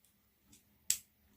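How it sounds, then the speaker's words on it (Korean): Plastic part of a dinosaur toy clicks into place with one sharp, close snap, preceded by a faint handling rustle in an otherwise quiet room. "딱 소리 났지? 이거 들어가는 소리야."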